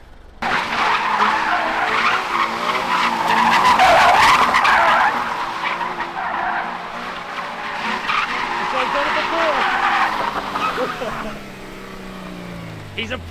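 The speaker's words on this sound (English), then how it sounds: "Do you know what a way to end the whole tour of just doing donuts in a car park?" A Japanese-market car doing donuts in a car park, tyres skidding and squealing continuously over a revving engine, loud and close, with voices talking over it.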